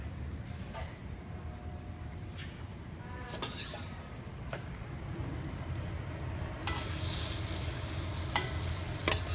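Steady crackling sizzle of asparagus on a hot grill pan, with occasional utensil scrapes and taps, growing a bit louder and brighter toward the end.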